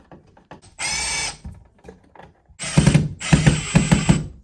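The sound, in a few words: power drill screwing electrical outlets into recess box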